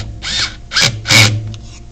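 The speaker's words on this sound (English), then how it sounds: "Hear that stripping noise? That's the bolt tight enough." A power driver torques a bolt tight, giving three short, loud whirring bursts close by, each ending in a grinding, stripping chatter as the bolt stops turning.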